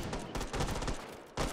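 Rapid bursts of gunfire in the VR shooter Hot Dogs, Horseshoes & Hand Grenades, several sharp shots in quick succession, fairly quiet and close, with a brief pause before a final shot.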